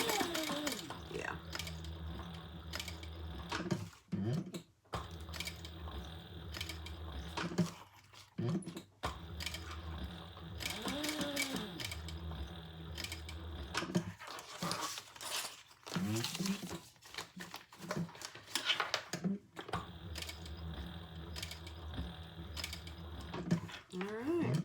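A sewing machine stitches through a leather sling in quiet, uneven bursts of mechanical clatter separated by short pauses, with a voice speaking at times.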